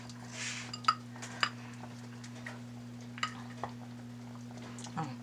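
Utensils clink and scrape against a bowl as food is mixed for sliders, a few soft, scattered taps over a steady electrical hum, quiet and close.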